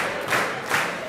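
An audience at a lecture claps for a woman named Sarah, a short burst of steady applause with cheering swelling in two quick waves.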